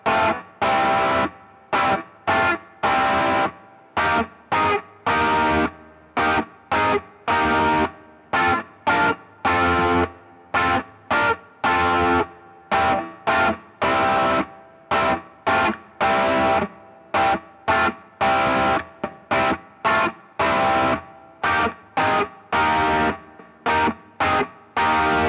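An electric guitar with heavy distortion chugs through a rock chord progression, with a choppy rhythm of short, punchy chord stabs and quick gaps, each chord struck twice, loud and continuous with no talking.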